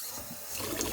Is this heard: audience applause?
no